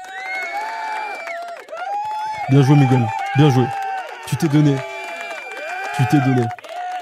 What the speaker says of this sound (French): Est-ce qu'on peut tous applaudir Miguel, s'il vous plaît?